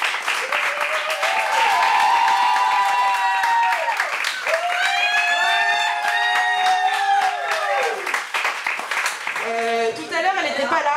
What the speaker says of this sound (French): je voudrais qu'on fasse un tonnerre d'applaudissements pour nos deux animateurs de folie, Soraya et Otis.